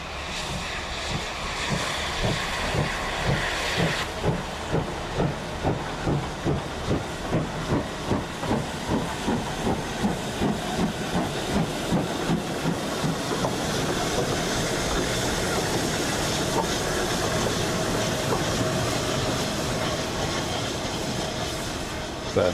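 Steam locomotive Rood Ashton Hall running with loud steady hiss, a regular rhythmic chuffing beat building and repeating, then settling into a continuous roar of steam and rolling rail noise, close by.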